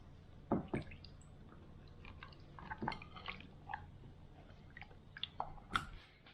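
Raw tilapia gets washed in water after a rub with vinegar, giving close, faint wet squelches, drips and splashy handling in irregular bursts.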